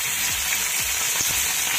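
Curry leaves and four or five green chillies fry in a pan with a close, steady, loud sizzle and crackle that runs unbroken, with no voices.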